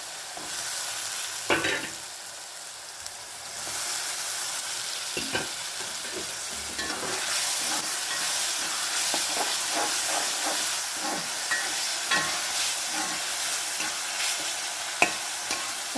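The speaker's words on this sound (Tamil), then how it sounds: "தக்காளி நல்லா வதங்கட்டும்." Chopped tomatoes sautéing in a pan for chicken gravy: a steady, fairly loud sizzle and hiss with occasional stirring scrapes and clinks, no voices.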